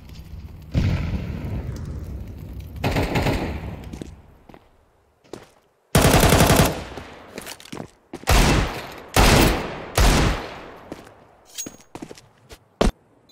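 AK rifle gunfire in the video game Counter-Strike 2, bursts of loud rapid shots alternating with quieter footsteps, then a string of sharp, close volleys and single cracks spaced unevenly toward the end.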